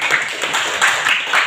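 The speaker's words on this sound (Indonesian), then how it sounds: "Tepuk tangan." A classroom group gives brief applause during a microteaching lesson, a short burst of many hands clapping at moderate level, with no talk over it.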